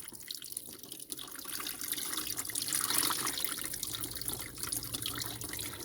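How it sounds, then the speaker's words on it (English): Water is poured onto dirt sitting in a sieve, making a steady, soft rushing trickle that swells briefly in the middle, heard close and fairly quiet. "you take some water and you let it loose on top of"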